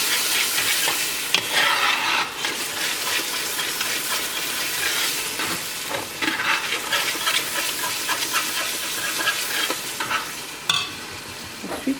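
Tomato frying in an opened cooking pot, a steady loud sizzle with stirring scrapes running throughout, no voices.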